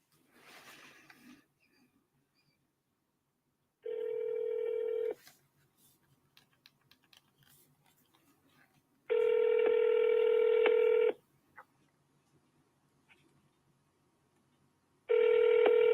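Phone call being placed: a short burst of keypad dialing, then repeated loud steady ringback tones separated by long gaps of near silence.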